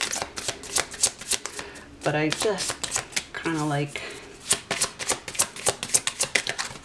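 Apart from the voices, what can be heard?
shuffling a deck of tarot/oracle cards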